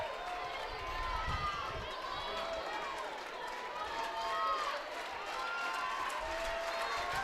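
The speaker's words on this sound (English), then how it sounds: "The claps from the Gators are making it loud." Florida Gators fans clap and jeer in the stands at a softball game against Michigan, a steady crowd roar with scattered whistles and shouts under a commentator's voice.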